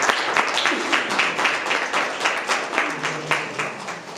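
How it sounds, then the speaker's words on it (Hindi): An audience at a church service in Chandigarh claps in a dense, sustained burst of applause that swells and fades slightly over several seconds. "ताली बजाकर परमेश्वर के दास"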